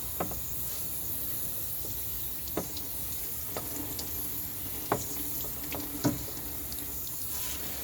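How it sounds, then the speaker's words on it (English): Water flushed through the inside of a Rover 45 car door after degreasing, a soft continuous hiss and trickle with several short splashes and drips at irregular intervals, fairly quiet and close. "Now we're just going to flush it through with some water."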